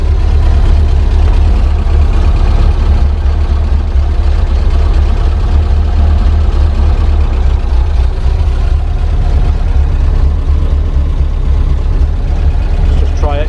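A 1930 Ford Model AA truck engine runs with a loud, low rumbling idle that stays steady and close the whole time, with no clear start-up burst heard.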